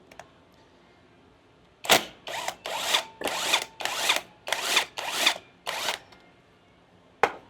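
A power tool driving bolts out of electric scooter rims during a 10x2.5 solid tire install, about eight loud, evenly spaced bursts of whirring rattle with short pauses, heard alone.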